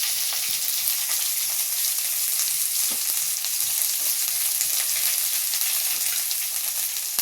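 Small shallots and a little chopped onion fry in a pan for a pumpkin dry fry dish, making a steady, dense, high sizzle with a faint crackle that runs evenly throughout and has no talk over it.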